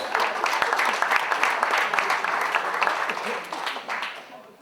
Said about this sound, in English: please give the panel and Alan another big round of applause